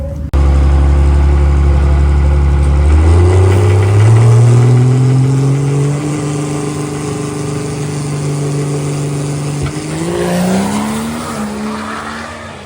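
A 12-valve Cummins diesel truck makes a drag racing run, its engine loud and close as it launches, then a rising drone that climbs through several gear shifts, with a tire chirp near the end.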